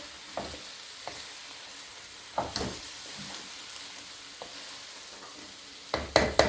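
Potatoes sauté with onion and garlic in a pan, a soft steady sizzle broken by occasional scraping stirs and clatters, which cluster more densely at the end.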